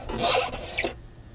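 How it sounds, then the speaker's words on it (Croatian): A spare car tyre dragged out of its compartment during a tyre change, a short close scraping rasp of rubber rubbing against the surrounding surface, ending abruptly. "izvučemo gumu iz ovoga"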